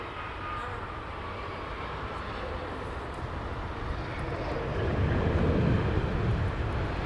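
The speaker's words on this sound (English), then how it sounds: "Turkish A350 just taking off now" A Turkish Airlines Airbus A350 taking off at Heathrow, a broad rumbling jet roar in the distance that swells louder toward the end.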